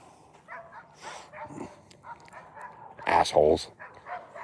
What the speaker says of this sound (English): Stupid dogs don't want to listen all of a sudden